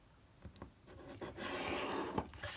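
Scissors snip through glossy magazine paper for a junk journal cover, several soft crisp cuts followed by a longer rustling slide of paper, quiet and close with no talk.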